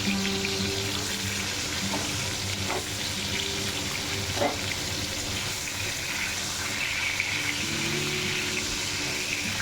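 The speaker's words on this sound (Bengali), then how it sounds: "তেলটা গরম হয়ে গেছে এবার পটলগুলো একে একে সব ছেড়ে দেব" Pointed gourd (potol) pieces frying in hot oil give a steady, close sizzle that runs the whole time, with a few faint clinks and stirring noises in it.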